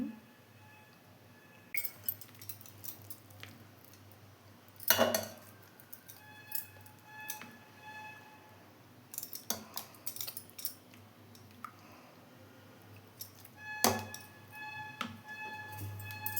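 Thick homemade cream, gathered for a week, is scooped from a container into a mixer jar to make butter, giving faint scattered clinks and taps of spoon on glass and metal in a quiet room, with a few sharper knocks.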